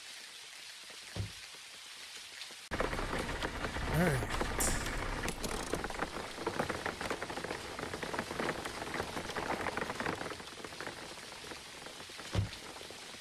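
Steady rain pours down in the driving game Jalopy, a dense continuous hiss on the surface that swells louder partway through, with a few short voice fragments and faint engine tones beneath.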